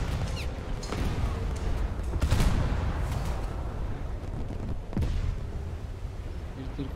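Naval gunfire from a warship in a video game, firing high-explosive shells from the British destroyer HMS Jervis, with loud booming shots around two and five seconds over constant rumbling battle noise.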